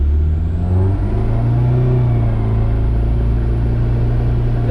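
An Acura RSX Type-S with a K24 engine revving up, a loud, close, steady engine drone whose harmonics climb as the revs rise and then hold.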